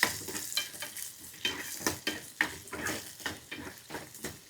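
Chopped onions sizzling in hot oil in a pan for sambar tempering, stirred with a spoon that scrapes and clinks against the metal in a steady rhythm over a constant frying hiss.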